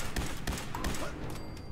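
Rapid gunshots in the Fallout 4 video game, several close thudding shots in quick succession over about a second before fading, with no speech.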